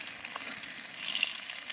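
Bay leaves, a dried red chilli and whole cumin seeds sizzle steadily in hot oil left from frying fish, a close, continuous hiss with no voices.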